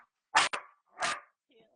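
A dog gives two or three short close barks in quick succession, then goes quiet with a faint whimper-like trace at the end, heard during an indoor live podcast recording.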